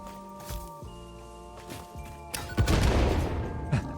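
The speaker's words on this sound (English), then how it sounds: "Just a random explosion in the background." An explosion in the Satisfactory video game bursts out partway through as a loud, rumbling boom that lingers over steady humming machinery tones and lighter clanks.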